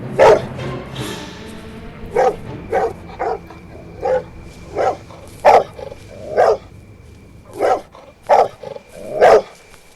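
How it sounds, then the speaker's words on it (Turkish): A dog barks repeatedly in a mobile horror video game, at a steady pace, about a dozen sharp barks spaced roughly a second apart, fairly close, over a quiet background hum. "köpek burada."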